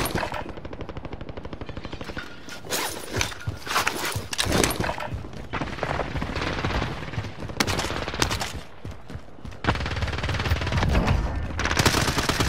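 Loud rapid gunfire from Call of Duty Warzone on the Rebirth map, with bursts of automatic fire and single shots crackling continuously and dense game effects throughout.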